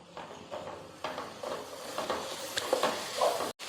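Garlic, ginger and green chillies sauté in a pan with a soft, close sizzle, broken by repeated scraping strokes and clinks of a spoon stirring against the metal.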